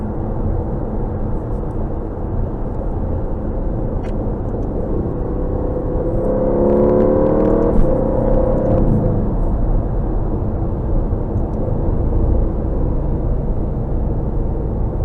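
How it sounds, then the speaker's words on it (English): A 2020 Aston Martin Vantage V8 engine drones steadily from inside the cabin while driving, swelling briefly into a louder rising rev around the middle before settling back to a constant hum. "And just a great sound from this car."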